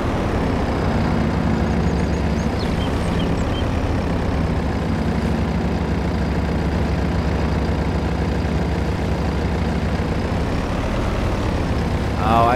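A small garden tractor engine in Farming Simulator 22 drones steadily and loudly throughout, a continuous low rumble with a slight rise near the end and no speech.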